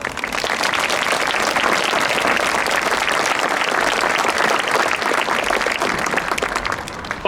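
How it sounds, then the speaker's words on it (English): Sustained applause from a crowd at a 2020 high school graduation ceremony held outdoors in a stadium, steady and dense clapping lasting several seconds without a break. "Please join me in a round of applause."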